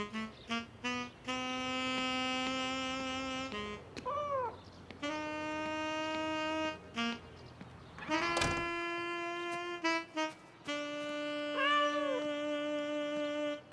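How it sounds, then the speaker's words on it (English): Cartoon cat meowing repeatedly, a series of drawn-out tonal meows with wavering pitch, separated by short gaps, heard fairly clearly with little else in the background. "No cats on the table."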